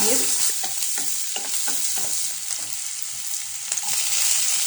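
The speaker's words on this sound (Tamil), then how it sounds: "சீரகம் நல்லா பொரியவும் சின்ன வெங்காயம் பச்சை மிளகா பூண்டு காஞ்ச மிளகா எல்லாம் போட்டுக்கோங்க" Shallots, green chilies, garlic and dried chilies with cumin frying in a pan, a loud steady sizzle broken by repeated scraping stirs close by, with no talk.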